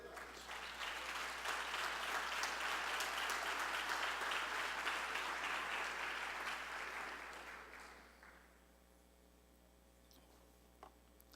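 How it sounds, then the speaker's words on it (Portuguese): A church congregation applauds loudly during a Portuguese-language worship service. The dense, sustained clapping lasts about eight seconds, then quickly dies away into a quiet room. "Levante sua mão e aplaude o Senhor bem forte."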